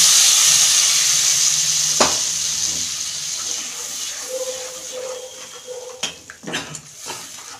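A spice paste of Kashmiri chilli powder fries in a pan for a pabda fish curry cooked with mustard and poppy seed, giving a steady close sizzle with clinks of utensils and stirring scrapes toward the end.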